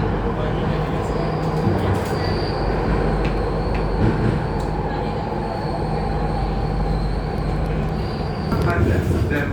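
An MRT Jakarta subway train runs with a loud, steady rumble and rolling roar, a thin wheel squeal riding above it throughout and a brief rise in clatter near the end.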